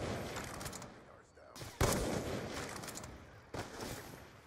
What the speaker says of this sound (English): Bullets flying through the air!